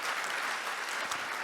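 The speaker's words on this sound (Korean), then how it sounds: "큰 박수 부탁드리겠습니다" Audience applause at a defense-industry forum session in Korea, a steady wash of clapping from a seated crowd lasting throughout, fairly even and moderately distant.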